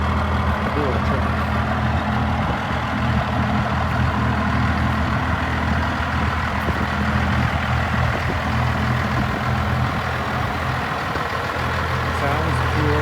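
A first-generation Cummins 12-valve diesel truck idling nearby, a steady low rumbling drone with an even throb throughout, with people talking faintly over it.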